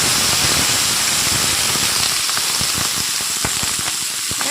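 Chopped spring onion stalks, washed and drained, sizzle loudly as they hit hot oil in a pan for a rohu fish dish, a dense steady hiss with scattered sharp crackles and pops throughout.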